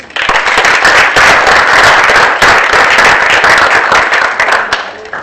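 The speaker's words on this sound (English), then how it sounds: "that deserves a round of applause" A roomful of people at a prize-giving ceremony breaks into a dense round of applause, loud and sustained with many hands clapping together throughout before it starts to thin toward the end.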